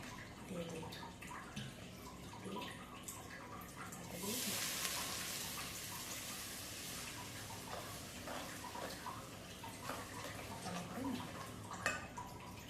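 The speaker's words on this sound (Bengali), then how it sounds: "তেলটা আমি গরম করে রেখেছি। এই তেলটার মধ্যে কাশ্মীরি লঙ্কাটা ফেলে" Kashmiri chili drops into hot oil and sizzles steadily, the frying hiss rising sharply and then settling into a continuous crackle with faint kitchen clatter.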